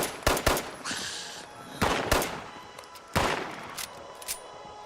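Gunfire in Fallout 76 cracks out in short bursts of sharp, loud shots separated by brief pauses, some clustered in quick pairs and rapid strings, with faint echo trailing each volley.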